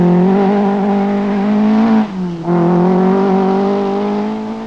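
A rally car from the 1980 RAC Rally is driven through a forest special stage in the Forest of Dean. The engine drones loud and close, dips briefly as it shifts, then pulls strongly again.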